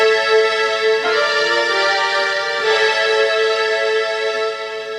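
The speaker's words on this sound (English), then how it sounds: "And I've also got a string sound." Strings patch from a Yamaha MX49 synthesizer: a sustained, lush string chord rich in harmonics that holds loud and steady for several seconds, with a slight swell near the middle and no voices.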